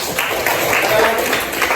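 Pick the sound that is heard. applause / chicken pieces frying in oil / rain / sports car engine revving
applause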